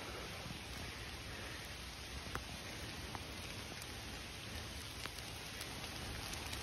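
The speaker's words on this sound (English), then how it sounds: "The rain is picking up now." Steady rain falls through woodland on a wet day, a dense continuous patter of drops on leaves and ground with occasional louder individual drips, no voices.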